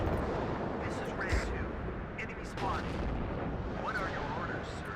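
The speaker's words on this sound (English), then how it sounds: "The artillery is relentless." Artillery fire rumbles in the WARNO war strategy game, a dense continuous barrage of low booms and blasts with a voice talking faintly underneath.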